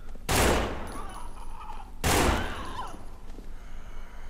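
Gunfire from the zombie survival video game No More Room in Hell, set in a shopping mall: two loud, broadband blasts about two seconds apart, each trailing off into a rattling decay.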